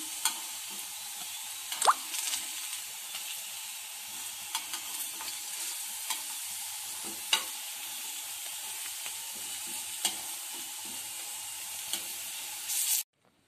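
Aloo tikki potato patties fry on their second side in a pan, a soft, steady sizzle with occasional light clicks and utensil taps, with no talking and ending abruptly.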